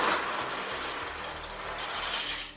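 Dry cavatappi pasta pours into a pot of boiling salted water, giving a close, steady rush of rattling and bubbling that fades slightly at the end.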